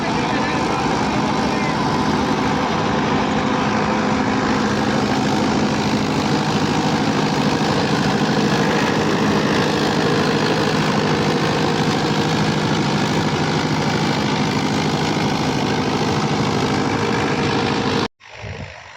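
A new Sonalika 60 tractor runs a super seeder in a paddy field, its engine a loud, steady, close drone lasting almost the whole time before cutting out abruptly near the end.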